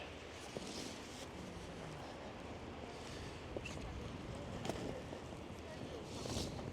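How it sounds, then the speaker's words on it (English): Strong wind buffets the microphone outdoors, a steady broadband roar with gusty swells, carrying moisture, loud and continuous throughout. "The wind does not want me to pick up my umbrella."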